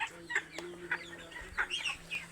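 Young 18-day-old broiler chickens cluck in a steady series of short, bright calls spaced about every half second, close and fairly clear over a low background hum, with no talking.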